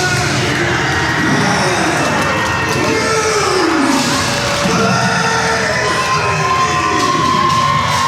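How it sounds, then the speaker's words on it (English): Pro wrestling crowd cheering and yelling as a huge 6-foot-10, 500-pound wrestler appears, a dense, loud roar of shouts and whoops continuing without a break. "These idiot plebs are cheering for this force of nature."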